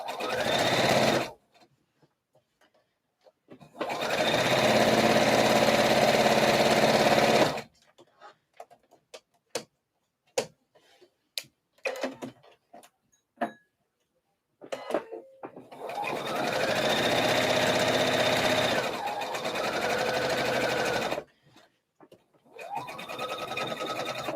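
A sewing machine stitches a slip dress in several long, steady whirring runs separated by pauses filled with sharp clicks and handling taps, with a voice talking at times.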